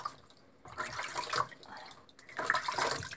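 Tap water runs and splashes in a tub or sink while a small dog is bathed and the water is changed, moderately close with uneven bursts of flow and dripping.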